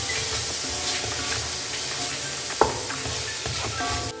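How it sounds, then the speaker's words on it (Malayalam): Biryani masala fries in a hot pan while it is stirred with salt, giving a continuous close hiss and sizzle broken by a sharp scrape or clink partway through. "കുറച്ച് ഉപ്പിട്ട് കൊടുക്കാം. നല്ലോണം ഇളക്കി കൊടുക്കുക."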